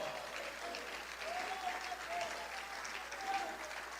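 A church congregation applauding steadily throughout, dense clapping at an even level, with a faint voice or tone rising briefly beneath it.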